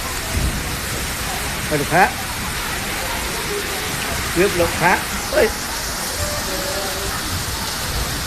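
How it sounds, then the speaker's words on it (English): Heavy thunderstorm rain pours steadily as a broad hiss at a sky walk in Kanchanaburi, Thailand, with people talking over it in several short bursts. "God, look at that thunderstorm, you can hear it."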